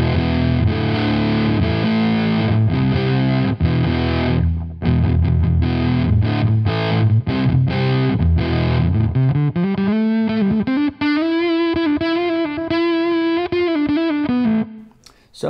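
Heavily distorted electric guitar through a Krachwerke LedBelly Fuzz pedal at full gain, thick and saturated, plays chords then a sustained bending lead line, loud and up close.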